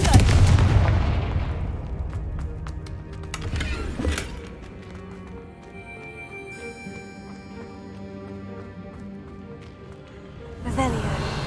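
Confringo fire spell explosions in Hogwarts Legacy on PC, loud booming bursts at the start, midway and near the end over steady background music.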